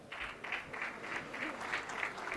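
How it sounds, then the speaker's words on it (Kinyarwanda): An audience claps in steady, rhythmic unison, a close and even patter of hands that carries on for a couple of seconds with no voices over it. "Amuza ndagushuje amashyi menshi kuri Amuza."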